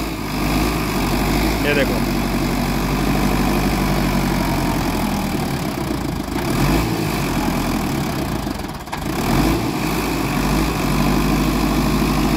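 Sonalika Sikander DI 55 DLX 4x4 tractor engine runs steadily and loudly throughout, a constant heavy diesel drone while a wheel is lifted free, with people talking over it.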